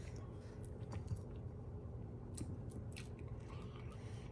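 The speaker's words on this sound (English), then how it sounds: "that crunch of that jalapeno is really good" Someone chews a jalapeno popper with sausage and garlic chive cream cheese, giving repeated moist crunches and squishy bites close to the mic, with no talking.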